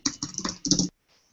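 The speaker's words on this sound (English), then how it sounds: "I'm typing that in." Quick bursts of typing on a computer keyboard, several rapid clusters of key clicks close up, then a sudden stop into near silence.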